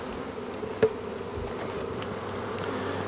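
Honey bees buzz around a beehive box outdoors, a faint continuous insect hum with one brief click near the start.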